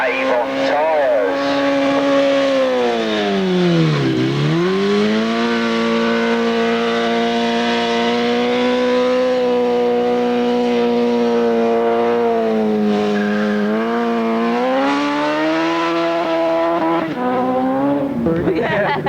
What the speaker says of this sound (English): a demonstration of his skills on the motorcycle supplied by West Coast, burning out Avon tyres